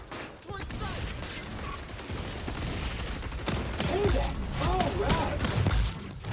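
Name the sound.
MK 20 SSR gunfire in a video game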